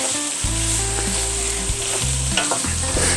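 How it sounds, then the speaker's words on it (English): Bacon, pearl onions and mushrooms sizzle loudly in a hot pan for coq au vin while being stirred, with scraping and occasional knocks over a steady fry. "Just going to stir this in a little bit."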